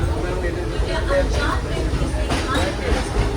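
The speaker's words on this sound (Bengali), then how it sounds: "আমরা এখন এই ট্রেনটা ধরে যাচ্ছি ব্যান্ডেল।" A steady rumbling drone of a moving train bound for Bandel, West Bengal, fills the clip, loud and continuous, with people talking over the noise.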